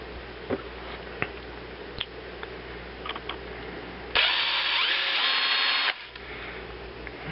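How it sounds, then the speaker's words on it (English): A drill bit bores a test hole in pottery clay, whining loudly for about two seconds over faint background noise and scattered handling clicks. "So I am going to test this out with 1/8, 3/16, 5/16, 5/8, and 1/2 inch drill bits"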